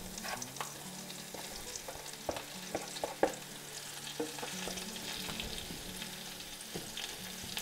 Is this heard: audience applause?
no